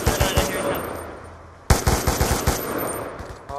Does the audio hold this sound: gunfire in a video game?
yes